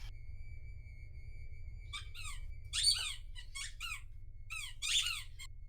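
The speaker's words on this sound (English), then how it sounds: "Can you hear my dog on her squeaky ball?" A dog chewing a squeaky ball toy nearby, with clusters of rapid high squeaks coming in bursts over a low hum, loudest around the middle and near the end.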